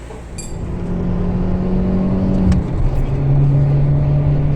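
Car engine on a test drive after a short shifter install, a steady droning hum that drops in pitch partway through as a gear changes, then holds again.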